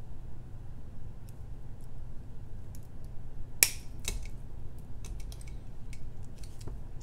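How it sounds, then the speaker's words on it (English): A single sharp snip of jewelry wire being cut from a wire-wrapped necklace piece, a crisp close click standing out against a quiet room with a few faint ticks and handling sounds afterward. "Snip off the excess."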